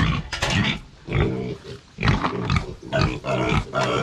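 Pigs grunt and squeal loudly and repeatedly up close while being fed a pile of harvested string beans at a farm, a busy chorus of overlapping snorts and squeals.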